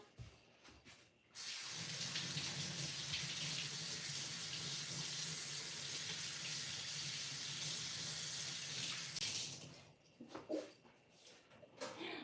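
Tap water gushing steadily into a sink while parts are washed, a close, even hiss lasting several seconds before cutting off, followed by faint handling clatter.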